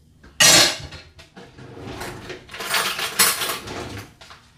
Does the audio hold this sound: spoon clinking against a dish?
yes